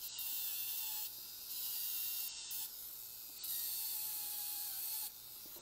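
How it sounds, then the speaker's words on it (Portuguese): A dental rotary handpiece runs a rubber polisher over a front tooth, giving a high, steady whine that drops and returns in short bursts as the instrument touches and lifts, close and alone. "Deixa eu só passar a borracha aqui num cantinho que me incomodou aqui"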